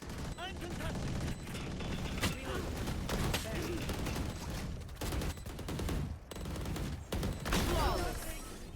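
Gunfire rattles in a shooter video game as dense, overlapping bursts and single shots over a busy game soundscape, which stays loud and continuous with brief gaps.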